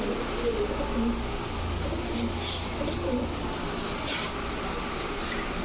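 Sabji racer pigeons coo in a loft, soft throaty calls repeating over a continuous murmur of background noise, with someone talking nearby.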